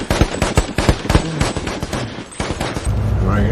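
Rapid bursts of gunfire from a film scene, a sniper's shots among them, crack sharply in quick uneven volleys before a steady low rumble takes over near the end.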